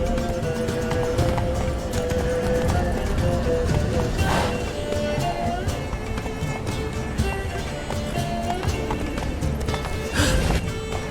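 The horse Roach gallops in The Witcher 3: Blood and Wine, hooves pounding in a quick, steady clip-clop rhythm throughout over a busy game soundscape.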